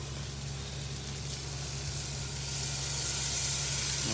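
Peas tipped into a pan of sizzling masala while making matar paneer; a steady, close frying hiss that swells a little louder partway through.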